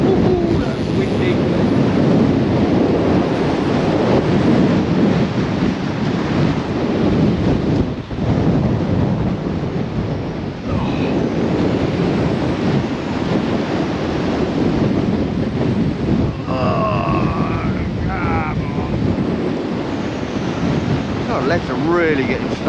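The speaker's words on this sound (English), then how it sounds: "Woo-hoo-hoo, that's windy." Strong wind and crashing waves at a town quay pier in Southampton during Storm Bert, with continuous roaring gusts buffeting the microphone over heavy surf. A man briefly calls out and a couple of faint hoots come through near the end.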